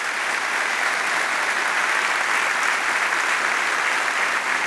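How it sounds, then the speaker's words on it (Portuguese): A church congregation applauds at a worship service, a dense, steady wash of clapping from a large crowd, loud and sustained throughout with no voices standing out. "E vamos aplaudir a Jesus."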